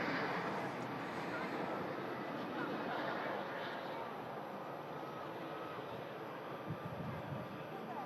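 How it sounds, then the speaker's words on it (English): A Ryanair airliner touches down on the runway at Manchester Airport, giving a broad, steady roar of engine and rushing air that stays loud and unbroken from start to finish. "EasyJet waiting to cross as the Ryanair touches down."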